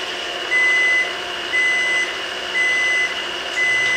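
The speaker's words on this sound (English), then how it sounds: "And I just set my timer to remind me to get it off the stove." Kitchen timer beeping beside a stove while baking orange cupcakes, four evenly spaced high electronic beeps, loud and close over a low background hum.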